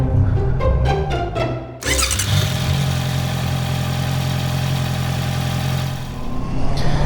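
A motorcycle engine runs before a group ride, opening with a few short throttle blips, then settling after a brief dip into a loud, steady, close idle that holds to the end.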